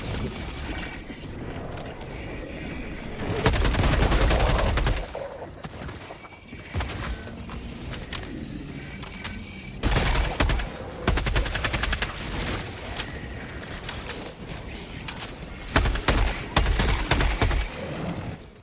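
Sustained gunfire bursts with grenade-like blasts in a Helldivers 2 battle in a video game, dense loud volleys swelling three times over a constant background of combat noise, no talking.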